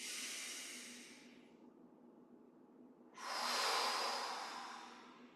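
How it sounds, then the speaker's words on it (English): Two strong breaths during Yi Jin Jing qigong practice: a long hissing exhale fading out, a short pause, then a second forceful rushing breath, close and alone with no talk. "Powerful breathing."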